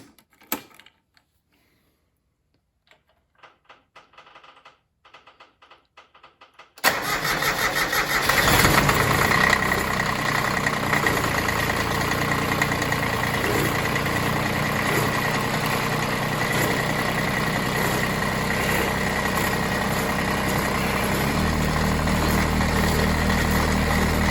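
Ford LGT 16D diesel tractor engine cranking and catching after a quiet stretch of faint clicks, then settling into a steady, loud, close idle with a lower throb deepening toward the end.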